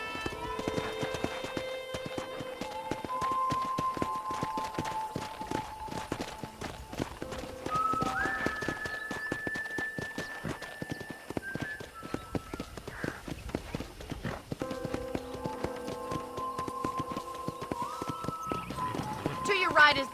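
Horse hooves clip-clop steadily through a ranch setting in the Red Dead Redemption video game, a continuous rhythmic trot under voices talking and background music throughout.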